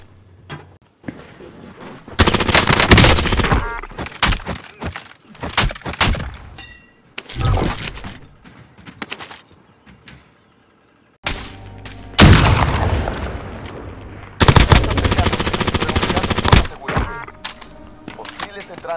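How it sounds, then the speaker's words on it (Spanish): Gunfire and a thrown grenade exploding in Call of Duty Warzone: loud bursts of shots and heavy booms come in several dense blocks separated by brief quiet gaps, with game voice callouts mixed in. "¡Granada lanzada!"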